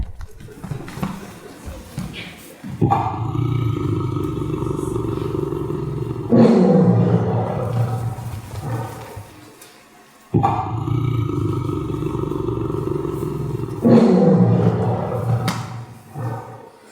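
A tiger gives long, loud, rumbling roars, two drawn-out bursts with a brief pause between them, close and dominant.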